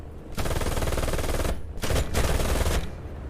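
Small-caliber aircraft machine guns hammer away in War Thunder during a Ruhr air battle, two dense rapid bursts with a short pause between, loud and close.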